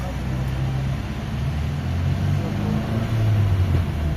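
Inside a Toyota Corolla cruising in fourth gear, a low steady engine drone mixes with road and tyre rumble at a moderate, even level.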